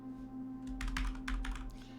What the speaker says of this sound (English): I'm typing in the wrong window